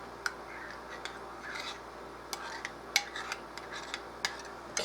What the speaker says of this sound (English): I'm going to mix that all up really good.